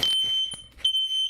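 A household smoke alarm sounds near a stove with a piercing, shrill electronic tone. The tone is close and loud, cuts out briefly, then resumes, with faint background noise between the bursts.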